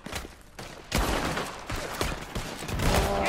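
Gunfire in the video game Red Dead Redemption 2 during a fort shootout, a rapid scatter of close and distant shots cracking at irregular intervals over a busy battle background.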